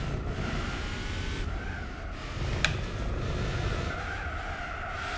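Racing car engine from the Gran Turismo 4 video game, a TVR, droning steadily at close range with tire squeal and skidding layered over it, and one brief sharp click midway.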